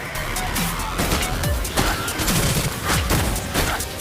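A rapid barrage of gunfire from Miss Fortune's Bullet Time ultimate in the mobile game Wild Rift, dense overlapping shots and impacts under game effects, loud and continuous.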